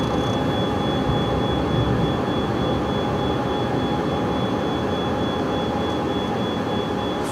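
A business jet taking off and climbing out of Chambéry, France, heard from inside as a loud, steady engine roar with a sustained high whine, unbroken throughout.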